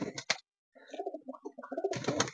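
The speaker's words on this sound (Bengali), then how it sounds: "কবুতরের গম খাওয়াই।" Pigeons at a home loft feeding on scattered wheat grain, giving soft cooing calls with a short pause between them and louder cooing and rustle toward the end.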